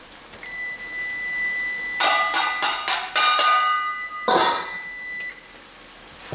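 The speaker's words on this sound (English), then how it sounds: "Alright, so it's been 2 minutes and the alarm's about to go off." A kitchen timer alarm goes off while kale is being preserved for winter, giving a run of loud, closely repeated ringing beeps, a short pause, then another bright burst and a lingering tone.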